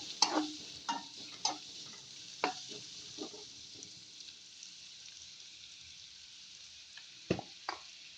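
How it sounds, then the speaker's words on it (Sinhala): Garlic or onions sizzle quietly in a hot pan with light stirring and a few sharp scrapes and clicks of a utensil, close and soft with no talk. "ලූණු දමා යොද ගන්නවා."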